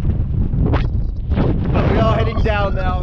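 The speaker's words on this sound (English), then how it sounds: "It's very, very windy and it's getting cold" Strong wind buffets the microphone on the summit of Carrauntoohil, a loud continuous roar with gusty surges while a person talks over it.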